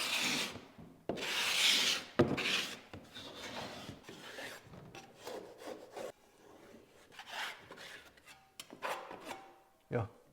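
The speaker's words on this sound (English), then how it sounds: "So that was the basic way to scrape this. That's how I would scrape a window like this." Drywall is scraped inside a window corner with a hand tool in irregular rasping strokes, some louder and some faint, and brief pauses between them. The sound is close, with no talk.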